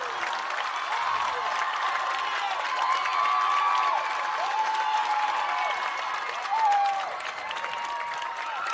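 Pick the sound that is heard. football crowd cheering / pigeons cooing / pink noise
football crowd cheering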